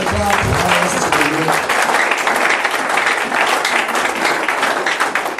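Applause fills a church as the congregation claps loudly and steadily in praise of the Lord, a dense wash of hands with a few voices briefly audible at the start.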